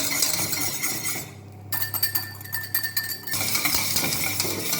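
A whisk scraping and clinking in a pan as butter is worked into warm béarnaise sauce, quick metallic taps and rattles close up, alone.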